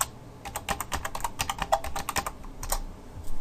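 Fingers type steadily on a computer keyboard during a Heroku command-line login, a close, quick run of clicking keystrokes with brief pauses and no voices.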